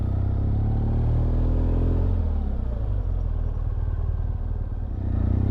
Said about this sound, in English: Luckily today I'm on my motorbike